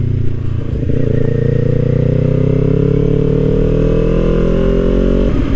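Kawasaki Ninja 400 motorcycle on a ride, its engine droning loud and close, rising steadily in pitch as it accelerates, with no talk.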